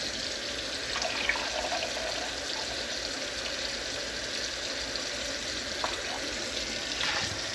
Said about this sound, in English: Add another cup of water.